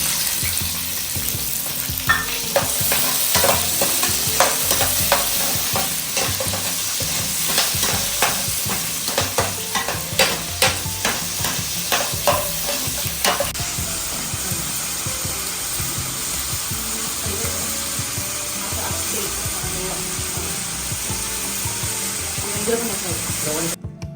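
Boiled green peas shallow frying for a vegetable biryani give a steady close sizzle with repeated scraping stir clicks through the first half, settling into a continuous hiss.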